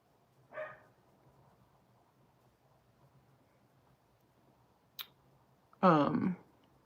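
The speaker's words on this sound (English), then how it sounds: "Hopefully my neighbor's dog will stop barking sometime soon" A neighbor's dog barks twice in a quiet room. The first bark is faint and distant, and a louder, fuller bark follows several seconds later, with a single sharp click between them.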